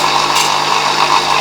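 A bench grinder runs loud and steady while a plane blade is sharpened, a constant close whirring hiss with a brief brighter grinding contact near the start.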